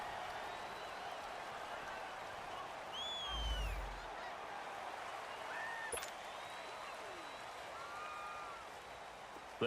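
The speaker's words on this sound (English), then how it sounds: "And the home crowd applauding." Home crowd noise from an American football stadium in Madden NFL 19: a soft, steady wash of distant applause, with a few brief whistle-like tones drifting over it.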